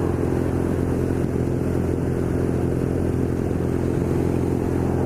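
BMW R nine T Scrambler motorcycle engine pulling steadily in fifth gear, a loud continuous mid-pitched drone with wind rush that holds constant throughout, heard alone without talk.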